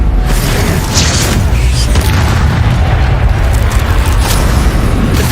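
A Confringo fire spell explodes during Hogwarts Legacy combat as a loud, sustained booming roar of blasts and rumbling bursts that fills the whole stretch without pause.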